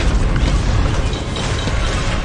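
Missile barrage explosions from a video game skill showcase form a dense, continuous rumble of overlapping booms and bursts, loud and sustained throughout.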